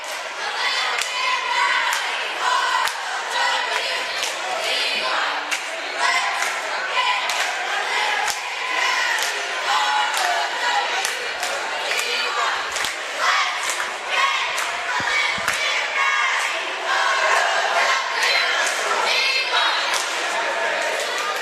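At a high school basketball game at Morton, cheerleaders from Sudan High School lead the gym crowd in a loud, continuous rhythmic chant, with thumps and scattered claps mixed in and a commentator speaking over the noise.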